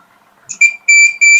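Continuity buzzer of an analog multitester beeps loudly in three sustained high-pitched tones, the first short and the next two longer, heard alone with no talking over it.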